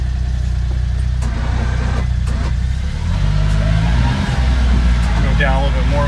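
A CFMoto U10 Pro UTV fitted with a KFI V-plow drives forward in snow, its engine droning loud and steady, then rising as it pushes ahead, with a voice talking over it.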